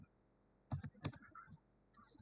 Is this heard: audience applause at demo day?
no